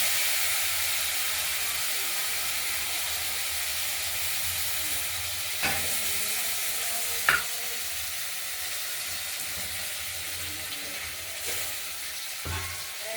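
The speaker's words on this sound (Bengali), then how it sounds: "আর মশলাটা, হলুদটা গুলে কষানোর জন্য দিয়ে দিলাম।" Spice paste and turmeric fry in hot oil in a pan for a fish curry with potato and tomato, a loud, steady sizzle broken by a few soft clinks of stirring.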